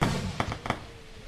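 Fireworks in the Roblox video game: a sharp boom followed by two quick cracking pops, moderately loud, with no talking.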